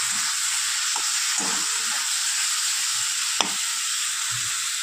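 Prawns and ridge gourd sautéing in a pan give a steady close sizzle and hiss throughout, with a sharp clink of a utensil midway and faint stirring scrapes underneath.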